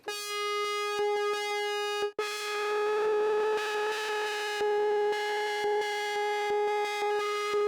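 A buzzy Sequential Pro 3 synthesizer tone drones steadily, then shifts into a brighter, shimmering texture with rhythmic ticking pulses running through it as a noise source is modulated.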